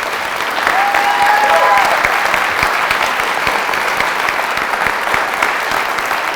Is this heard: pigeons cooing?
no